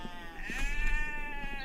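A sheep bleats in a mountain-pasture video game, one wavering, nasal cry held close and loud for most of the moment, with no talking over it.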